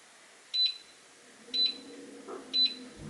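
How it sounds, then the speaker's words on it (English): Three short electronic beeps spaced about a second apart, clear and close, from a Neff T18FD36X0 electric ceramic hob timer finishing, followed by a faint low hum in a quiet room. "So that's the sound it makes when the timer is up."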